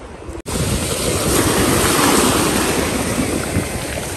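Stormy sea surf breaking on the shore at Lazarevskoye on the Black Sea, a loud continuous roar of crashing waves with wind buffeting the microphone, steady from start to finish after a brief cut near the beginning.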